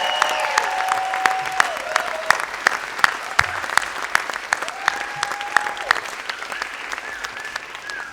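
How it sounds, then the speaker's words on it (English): A large audience applauds at a school culmination ceremony for young people moving up, a steady dense clapping that runs for about eight seconds, with whistles and cheers rising above it. "can we just have another round of applause for all of our incredible young people who are moving up?"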